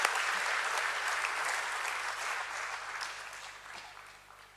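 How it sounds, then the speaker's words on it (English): Audience applause fills the hall at a BSE stock exchange listing ceremony for Godavari Bio Refineries, a steady wash of many hands clapping that slowly fades over several seconds, with no talking. "Let's have a huge, huge round of applause for sir as well."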